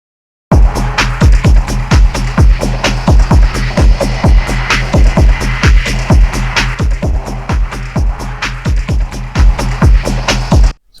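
Stereo-widened electronic techno sound design, with grouped channels hard-panned left and right and an LFO sweeping an EQ frequency differently on each side, gives a loud, steady pulsing loop of sharp rhythmic hits over a dense, sustained bed, with no talk.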